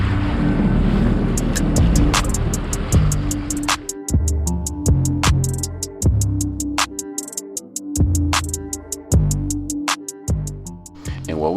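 A small dinghy moves across open water near anchored boats in Oleta River Park, Miami, with a steady motor drone and wind rush and a regular rapid ticking over it, close and fairly loud.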